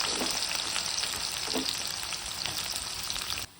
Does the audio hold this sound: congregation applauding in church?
no